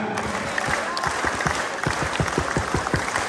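Massed rally crowd doing the Indonesian scout clap, a loud patterned run of synchronized claps that quickens toward the end amid general crowd hubbub.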